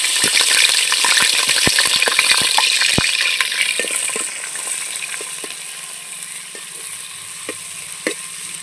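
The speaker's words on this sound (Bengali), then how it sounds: "তারপর এর মধ্যে আমি পেঁয়াজ লাল করে নিলাম।" Onions frying in hot oil with cinnamon, whole cardamom and bay leaves, a steady close sizzle with scattered clinks and scrapes of a spoon stirring the pan, busier at first and settling to a quieter hiss.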